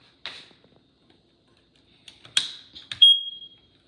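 A smoke detector with a triple-chirp fault sounds after its battery is put back, giving a few short close beeps and clicks among handling noise, with a final longer tone.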